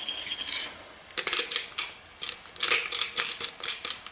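A salt grinder twisted over a bowl of homemade veganaise, several short gritty crunching grinds in a steady rhythm, close and crisp, each twist a rasping burst separated by brief pauses.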